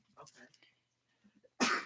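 A sudden loud sneeze bursts out at the end, after a stretch of soft, quiet speech-like murmuring from people talking.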